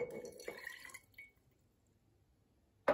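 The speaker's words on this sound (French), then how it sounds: "vous allez prendre l'eau et verser l'eau" Water trickles and drips into a mixture for about a second, then a near-silent pause follows before a short sharp splash or clink at the very end.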